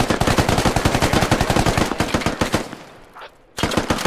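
Rapid automatic gunfire crackles in a video game, a loud close burst of evenly spaced shots that stops for a brief pause, then resumes abruptly.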